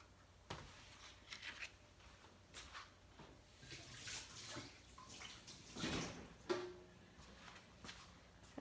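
A kitchen tap runs while hands are wetted for working sourdough. A soft, close hiss of flowing water rises and falls with splashes and a few clunks over several seconds.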